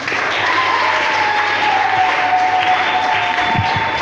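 A church congregation claps in sustained, dense applause that fills the hall evenly throughout, a loud continuous patter with a faint tone ringing underneath.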